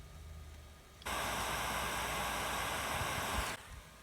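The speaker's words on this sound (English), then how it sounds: "They might be able to hear just how noisy the little cooling fan is on this thing." Small cooling fan of a Panasonic Toughbook CF-C1 convertible laptop gives a steady, loud broadband whoosh. It starts abruptly, holds constant for about two and a half seconds, then cuts off into quieter room hiss.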